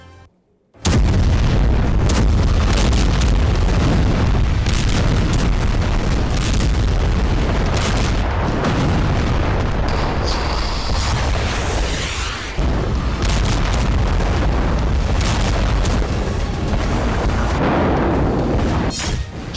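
Bombing explosions in Gaza during the war, rendered as a loud, dense stretch of booms and blasts with rumbling low-end roar and sharp bursts, continuous and heavily layered throughout.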